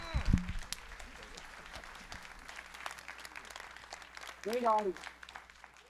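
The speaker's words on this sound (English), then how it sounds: "Please give a big round of applause to our panel." Faint, scattered applause for a panel at a civic forum on American democracy, heard at a distance. Brief voices sound at the start and again near the end.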